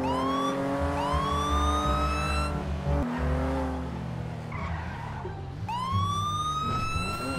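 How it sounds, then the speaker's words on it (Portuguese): A police car siren in a GTA V roleplay game wails continuously, rising and falling loudly, with a brief cut and tire and engine noise from the in-game car mixed in. "Eu não sei como é que deixa a sirene ligada direto."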